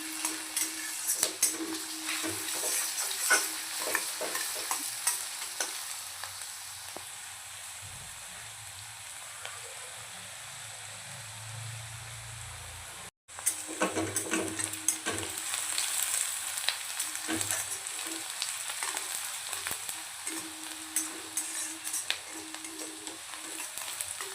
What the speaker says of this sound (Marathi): कंदा गोल्डन कलर चाहिए फ्राई करूँ दिया